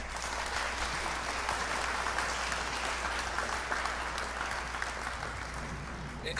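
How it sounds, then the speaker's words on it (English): Steady, dense applause from a crowd, many hands clapping continuously at an even level throughout, with no voices standing out. "I get an applause."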